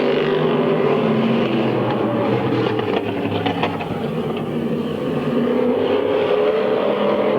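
Race cars roar around Midvale Speedway, a loud sustained engine drone that swells and dips as the pack passes, with no voices over it.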